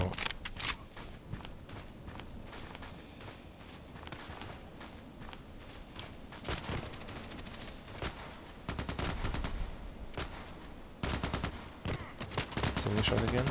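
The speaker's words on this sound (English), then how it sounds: "it sounds like if they would be shooting from there" Gunfire crackles in a tactical shooter game, with repeated bursts and single shots at varying distance alongside footsteps and movement, loud and busy throughout.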